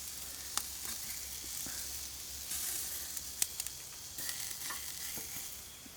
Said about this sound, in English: Close the lid and keep on grilling.